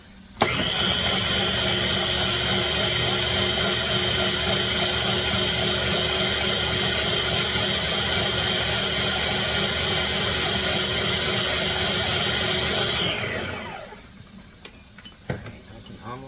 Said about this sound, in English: My canner is starting up.